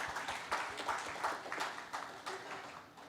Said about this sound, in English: Can we have a huge round of applause for yourself?